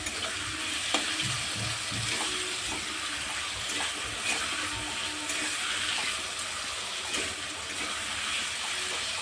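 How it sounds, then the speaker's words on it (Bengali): Potatoes with turmeric fry steadily in a pan, a constant hissing sizzle with occasional stirring clinks, close and continuous without any talking. "হালকা একটু হলুদ দিয়েই আমি আলুটা ভেজে নেবো"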